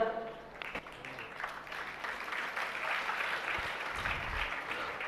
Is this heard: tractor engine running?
no